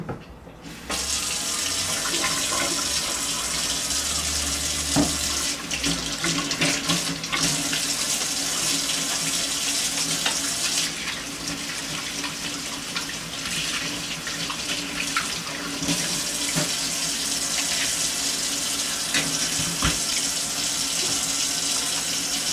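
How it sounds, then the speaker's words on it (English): A sink tap runs in a kitchen while hands are washed and warm soapy water fills the basin, a steady rushing stream that starts abruptly and continues loudly, with occasional splashes and shifts in flow. "While I'm washing my hands, I'm going to fill up the sink with some nice warm soapy water."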